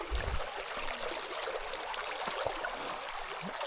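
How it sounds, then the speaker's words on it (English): A stream being crossed by a hiker on the Appalachian Trail, with steady broadband rushing and trickling of flowing water throughout, close and fairly loud, with a faint low thump or two. "We're crossing the river,"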